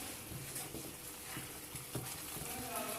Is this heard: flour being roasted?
yes